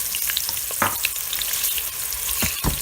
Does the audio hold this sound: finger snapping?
no